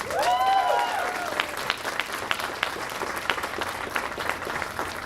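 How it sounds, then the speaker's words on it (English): Crowd applause at a Pride flag raising ceremony outdoors, clapping hands crackling steadily with a few distinct sharp claps, while a brief whistle-like tone sounds at the very start. "Let's give a round of applause."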